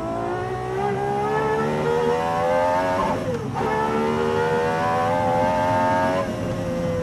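Two Gordon Murray Automotive T.50s with V12 engines run together at Goodwood, their high, smooth engine notes layered in a loud harmony, revs rising steadily with a brief dip as one lifts off, then climbing again.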